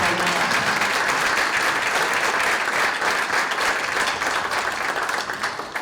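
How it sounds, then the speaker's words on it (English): A room at a chamber of commerce legislative breakfast breaks into sustained, loud clapping for the moderator, continuing evenly throughout and tapering slightly at the very end. "Can we have a great round of applause for Mark Donahue as the moderator of this program?"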